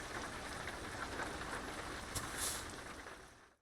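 Steady rain falls in American Truck Simulator, a dense even hiss of drops on the truck with no pauses and no voices, fading out at the very end.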